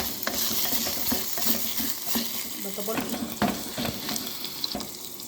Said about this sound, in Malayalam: അതിലേക്ക് ആവശ്യത്തിന് വെളിച്ചെണ്ണ ഒഴിച്ചു കൊടുത്തിട്ട് നമ്മുടെ ഈ വെണ്ടക്കയായിട്ടൊന്ന് വഴറ്റിയെടുക്കുകയാണ് ആദ്യം ചെയ്യേണ്ടത്